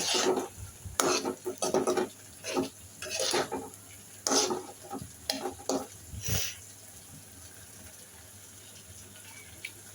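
Rohu fish roe and potatoes fried in a pan and stirred, with a sizzling, hissing bed broken by repeated scraping strokes of a spoon, loud and close, easing off toward the end.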